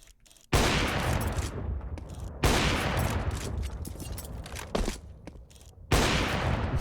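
Bursts of video game gunfire in a Hunger Games mode, loud and close, with several sustained volleys separated by brief gaps.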